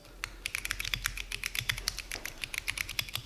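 Bare keyboard PCB typed on while resting on a mouse pad gives quick, dry clicky taps in an uneven flurry, close up with a faint low hum beneath and no talking.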